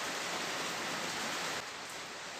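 Light rain falls steadily outdoors, a dense, even hiss of drops with no breaks, soft and continuous, slightly dropping in level near the end.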